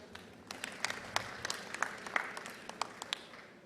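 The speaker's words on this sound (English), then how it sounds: "Let's give her another clap" Scattered applause from a conference audience at a Kenyan headteachers' delegates meeting, a loose spread of individual sharp claps at irregular intervals, fairly faint and somewhat distant, lasting a few seconds with no talk over it.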